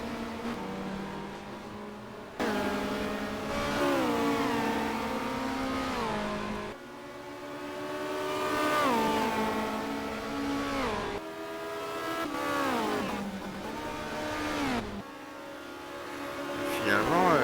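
Touring cars racing at high speed on the High Speed Ring in the 1990 WTCC, engines wailing as they pass in repeated rising and falling sweeps, loud and continuous.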